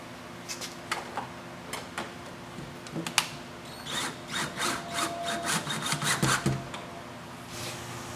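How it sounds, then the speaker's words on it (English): Self-drilling screw driven into a metal shutter from the inside, starting with a few sharp taps and clicks, then a rhythmic grinding, rasping run of bursts as the screw bites, close and without speech. "we're going to put one more screw now in at the top, also from the inside out"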